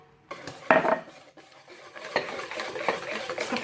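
A utensil stirs oil, orange zest and squeezed orange juice into cake batter in a bowl, with scraping swishes and light clinks against the sides and no talk.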